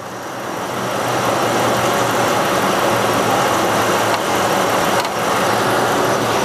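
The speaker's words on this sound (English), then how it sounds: "My RPMs OEM at idle is about 825 RPMs." A Ford F-series truck engine fitted with a DynoValve idles at about 825 RPM, giving a steady, loud, even rumble that carries on alone with no voices.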